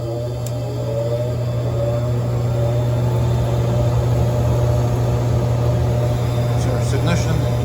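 A Trane XR80 gas furnace powers up after repair of its blower motor and control board, giving a loud steady low hum with a motor whir building beneath it, plus faint clicks near the end.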